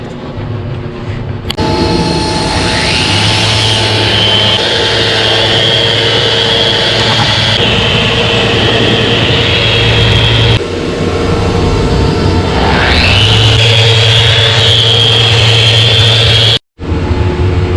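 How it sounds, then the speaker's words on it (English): A power sander works a wood surface up to 320 grit, a loud steady motorized whine with sustained tonal hum that runs continuously for most of the stretch, dipping briefly as the tool lifts and restarts. "So now we're gonna sand this to 320."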